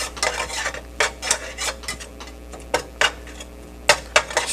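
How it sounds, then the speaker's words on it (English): A spoon stirs meat with herbs in unsalted butter in a pan, scraping and clinking in a string of short, close, irregular strokes over a faint steady sizzle, with no talking. "Stir this up."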